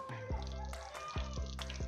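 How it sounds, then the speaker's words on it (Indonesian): Water dripping out of the potting medium of a Monstera adansonii pot after thorough watering, a few quiet separate drops falling at irregular intervals in a calm indoor setting. "kita siram seluruh medianya sampai airnya menetes"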